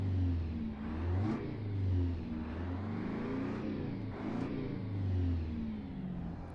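A truck engine in a truck-driving simulator game rumbles steadily and loud, surging in a few slow revving swells with low harmonics rising and falling, no talking over it.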